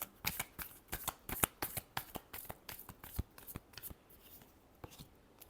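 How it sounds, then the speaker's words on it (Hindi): Tarot cards being shuffled by hand, a quick run of crisp riffling slaps in a regular rhythm, loud and close, then thinning into a few softer, scattered flicks. "last shuffle"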